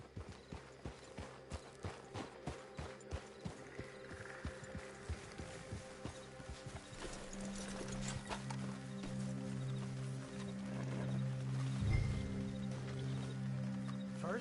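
Horse hooves from a video game as riders arrive: a steady, quiet clip-clop rhythm that slows and fades, giving way to a low rumbling drone and a faint snort near the end.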